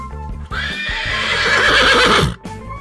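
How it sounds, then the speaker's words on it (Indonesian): A horse gives a loud, close whinny lasting a couple of seconds, rising and then quavering downward, with light hoof sounds around it. "Kuda adalah mamalia berkuku ganjil yang telah didomestikasi sejak ribuan tahun yang lalu."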